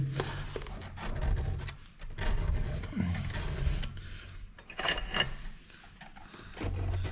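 Hand file rasping across a chainsaw chain's cutters, a few repeated scraping strokes with wooden and metallic rubbing in between, close and fairly quiet, no talking.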